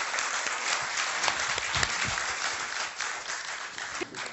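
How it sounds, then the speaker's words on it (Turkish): An audience claps and applauds in a dense, steady wash of hands through the whole stretch, loud and close, at a Turkish TV talk show. "Alkışlarımızla yükseltmek zorundayız"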